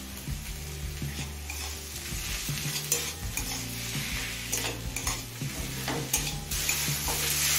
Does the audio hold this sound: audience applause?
no